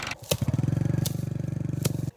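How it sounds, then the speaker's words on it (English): A tractor stuck in a field with a trailer labors at low revs, its engine chugging in a steady rapid pulse for about two seconds, loud and close, with a few sharp clanks. "The tractor is stuck."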